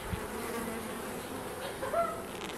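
Carniolan honey bees buzz softly and continuously close by, a faint insect drone with a few brief higher tones near the end.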